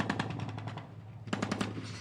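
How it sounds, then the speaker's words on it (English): Naval gunfire support during a joint military field training exercise with fast attack craft: two bursts of rapid repeated firing separated by a short pause, sharp and loud over a steady low engine hum. "This is open fire on naval gunfire support to neutralize the enemy beachhead."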